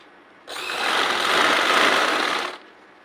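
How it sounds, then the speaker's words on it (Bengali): A sewing machine stitches a petticoat waistband, running in one steady whirring burst of about two seconds that starts and stops abruptly against near silence. "এইভাবে আমরা পুরো রাউন্ডটি সেলাই করে নেব"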